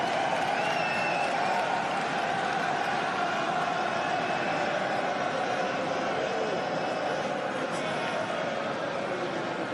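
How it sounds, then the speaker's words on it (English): Stadium crowd at an Arsenal friendly against Sydney FC roaring steadily as Alexandre Lacazette begins his warm-up, a dense, continuous wash of cheering and applause from a large distant crowd throughout, with faint voices mixed in. "Big cheer for Alexandre Lacazette as he started his warm-up"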